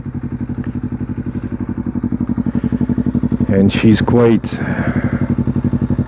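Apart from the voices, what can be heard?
twin-cylinder motorcycle engine starting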